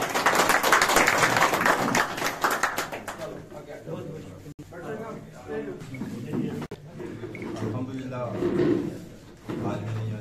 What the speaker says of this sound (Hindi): ताली से स्वागत किया।